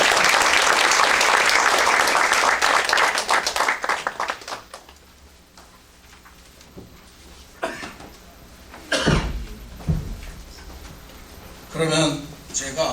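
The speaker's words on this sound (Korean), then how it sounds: "모두 우리 위클리 박사님을 환영하는 의미에서 박수로 환영하겠습니다" An audience at a lecture forum gives loud, dense applause to welcome a guest lecturer, fading after about four seconds into room quiet with a cough, throat clearing and brief voices.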